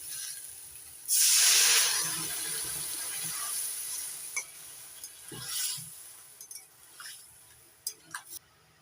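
Water is poured into eggplant frying with spices, setting off a loud burst of hiss and sizzle that eases into a softer bubbling simmer with a few pops and clicks, close up.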